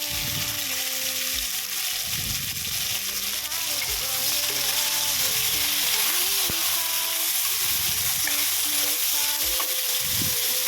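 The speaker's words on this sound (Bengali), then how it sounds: "একটু ফ্রাই হয়ে আসার পর দিয়ে দেবো পেঁয়াজ কুচি আর টমেটো কুচি।" Chopped onion and tomato frying with whole cumin seeds and spices in a pan for a Bengali bhetki fish curry, giving a steady close sizzle with occasional stirring scrapes, and no voices.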